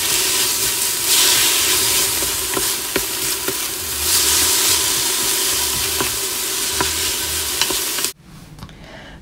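Garlic sautéing in an Instant Pot on the sauté function gives a loud, steady sizzling hiss with occasional stirring clicks, cutting off abruptly near the end.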